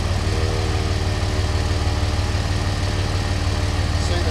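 A Harbor Freight 12-volt portable 150 PSI air compressor, model 69285, pumps up a car tire, giving a loud, steady motor drone with a rapid low piston pulse that runs unbroken and close throughout.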